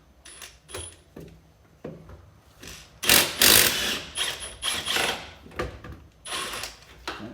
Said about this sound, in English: I'm going to remove these larger bolts in the back. Hopefully I get my impact on them.